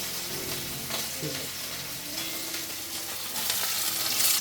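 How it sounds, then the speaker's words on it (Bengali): Bhetki fish fries in oil in a kadai with a soft, steady sizzle and crackle, and faint scraping sounds as the fish is moved about the pan. "প্রথমে একটা মাছ আগে ভেজে নেব মাছটা ঠিকঠাক ভাজা হচ্ছে কি না কড়াইতে লেগে যাচ্ছে কি না"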